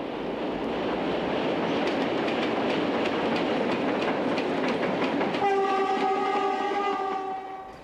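A Portuguese Railways class 1400 diesel locomotive train on the Douro line, rolling past with rhythmic wheel clatter, then sounding a loud sustained horn before the noise fades away.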